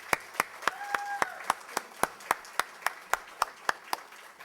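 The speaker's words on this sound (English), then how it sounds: "So can we please give them a strong, well-deserved round of applause?" Rhythmic clapping at a graduation gala, sharp, evenly spaced claps in a steady beat over a soft crowd background, with a brief tonal whistle-like note partway through.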